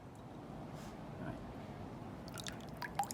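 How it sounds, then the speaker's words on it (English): Wet pinecones lifted out of a container of water, with scattered small drips and trickles falling back, mostly in the last second, over a steady faint background hiss. "I'm going to pull them out of the water."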